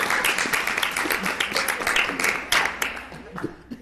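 An audience at a live CrimeCon show in Orlando applauds with scattered claps, lively crowd noise and voices mixed in.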